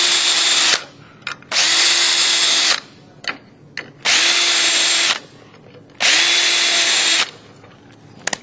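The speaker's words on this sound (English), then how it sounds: "just get these holes started" Power drill starting screw holes while installing trim and C-channel during a workwall installation: four loud bursts of whining motor, each lasting about a second or more, separated by short pauses with small handling clicks.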